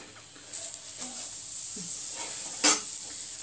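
A milk paratha fries in ghee on a pan with a faint, steady sizzle. A few soft pressing and utensil touches rise briefly above it, and no one speaks.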